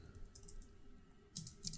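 Keystrokes on a computer keyboard, a few quiet clicks in short bursts, close and faint, with no talking.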